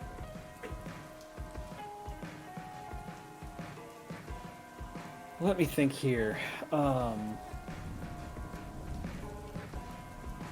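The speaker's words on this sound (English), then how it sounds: "that rain always so fucking loud." Steady rain patters on surfaces in a video game, a loud broadband wash running the whole time beneath a man's speech and some in-game sounds.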